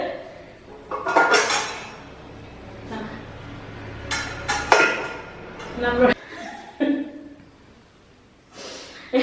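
Metal pots, including a biryani pot, and dishes clank and clink nearby in a home kitchen in a few sharp bursts, with people talking and chuckling around them.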